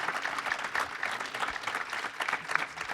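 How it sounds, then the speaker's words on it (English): Conference audience applauding panelists, continuous dense clapping that stays even and moderately loud throughout. "Please give a round of applause for these incredible people."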